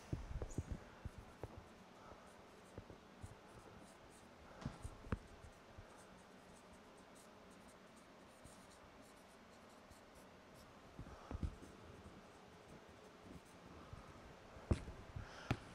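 Pen or marker scratching out a KCL nodal-analysis equation, faint close strokes in bursts separated by quiet pauses, no talking.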